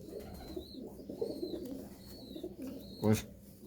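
A domestic pigeon coos softly in low, repeated murmurs close by, with faint background noise and a brief louder rustle near the end.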